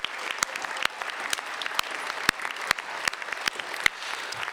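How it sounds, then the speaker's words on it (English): A sparse audience at a high school awards banquet claps for a crew, scattered individual claps standing out as sharp distinct hits over a softer bed of applause, fairly close and moderately quiet. "Let's give them all a round of applause"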